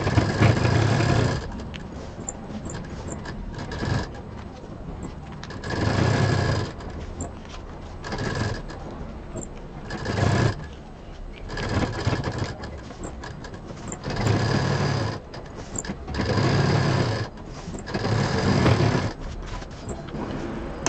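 A sewing machine stitches a bag pocket folded over a paper backing, running in about eight steady mechanical bursts with short pauses between them, close and fairly loud with no talking.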